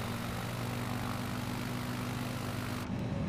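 Cirrus SR22 propeller airplane engine in Microsoft Flight Simulator 2020, a steady droning hum with a constant buzzy tone heard from inside the cockpit, no talking, with a brief change near the end.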